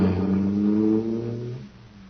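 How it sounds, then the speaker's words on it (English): A supercharged cosmic surface car's engine roars as a radio-drama sound effect, a strong, droning, harmonic growl that holds steady and then fades away over about two seconds. "Boy, that cosmic surface car is really roaring."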